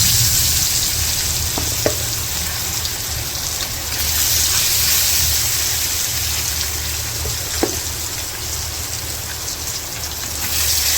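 Spice-marinated fish frying on a stove, a steady dense sizzle of hot oil throughout with a few faint clinks, no talking.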